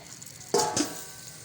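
Ghee hits hot charcoal set inside a pot of chicken biryani for smoking, a sudden loud sizzle and crackle lasting under half a second with a second smaller burst, then fading.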